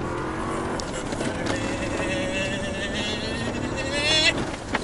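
A 2024 Toyota Tacoma TRD Pro in sport mode and 4 high charges an off-road course jump, its engine roaring steadily and rising under strong wind rush, swelling near the end.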